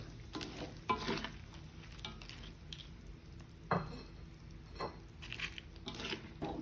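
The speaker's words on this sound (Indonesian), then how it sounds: "Kemudian kita masukkan ikan dan goreng kentang tadi, kentang yang sudah kita goreng ke dalam wacanya dan kita aduk-aduk." Fried fish and potatoes being stirred in a wok, a quiet low sizzle with scraping and clinking utensil strokes against the pan at irregular intervals.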